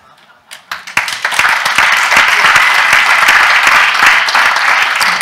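An audience bursts into applause after a few scattered claps, building within a second into a dense, loud, sustained roar of clapping that holds steady at a budget review event.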